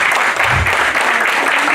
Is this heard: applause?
yes